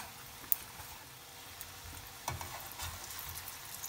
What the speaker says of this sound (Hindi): इसलिए हमें मीडियम आंच पे तलना है